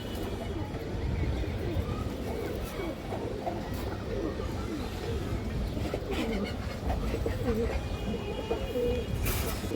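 High flyer pigeons coo steadily at close range against a dense, busy background of flapping and shuffling, with faint indistinct voices mixed in.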